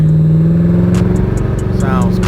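Straight-piped Chevrolet Camaro ZL1 with a muffler delete and cold air intake, its exhaust revving in a loud, steady droning burble, heard close up throughout.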